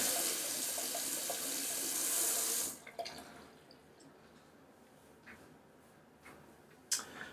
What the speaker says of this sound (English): while I got the water running.